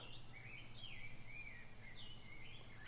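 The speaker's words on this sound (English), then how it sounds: "Listen to the birds." Birds chirp and sing steadily beside a lake, their high calls drifting in and out at a moderate distance over a low ambient hum, with no one talking.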